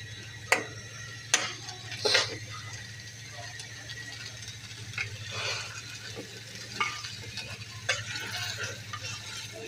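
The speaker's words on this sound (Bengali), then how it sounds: "এভাবে চুলা ধরে এভাবে বসায় দিবেন আপনার মাংসগুলোকে" Beef cooks in a wok set over a lit stove, with a few sharp metal clatters from stirring over a faint, steady sizzle and a low hum.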